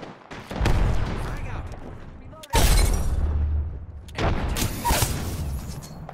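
Arc star grenade going off in Apex Legends, a sharp electric burst followed by a sustained crackling blast, then a second loud burst, all under ongoing game noise and fire.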